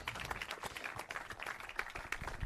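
A panel audience at a Bay Area short film festival applauds for Tony Gapastone, a steady patter of many hands clapping, moderate and unbroken.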